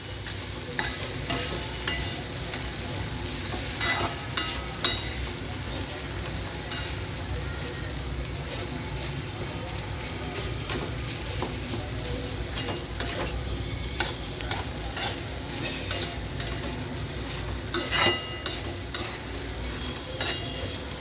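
Okra frying in oil with continuous dense sizzling and crackling, broken by occasional scraping clicks as it is stirred close by.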